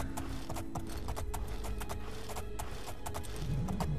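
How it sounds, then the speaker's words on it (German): A donkey being ridden in the Oblivion video game, its hooves clip-clopping in a steady quick rhythm of sharp, close taps over low background ambience, with no talking. "Reite ich mit dem Esel."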